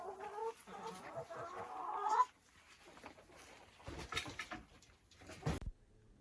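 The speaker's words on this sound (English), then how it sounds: "Now we're in the chicken coop. This is where the chickens lay the eggs." Hens cluck and squawk inside a chicken coop, with a loud burst of calls early on and scattered rustling and clucks after it, heard close by.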